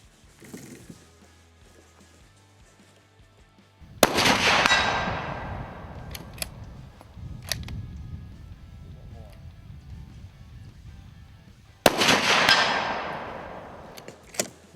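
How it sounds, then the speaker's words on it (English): Two loud, unsuppressed rifle shots through a muzzle brake, each a sharp blast with a long, ringing decay, spaced about eight seconds apart outdoors. "Yep, muzzle brake, loud, unsuppressed."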